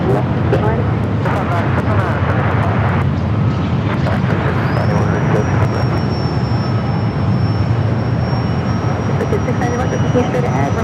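A Boeing 747 rolls for takeoff on runway 25 left at LAX, heard as a continuous loud jet roar with a rising whine, under radio talk.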